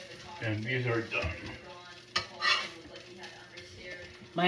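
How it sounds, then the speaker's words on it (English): Potato patties fry in a pan, giving a soft, steady sizzle with a few scraping and clinking utensil sounds, while a voice talks over it in a home kitchen. "My husband is frying up the potato patties."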